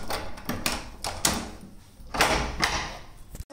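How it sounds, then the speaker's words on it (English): A door is checked before leaving home: close rattles, knocks and thumps of the door and handle come in uneven bursts with brief pauses between them. "Let's check the doors."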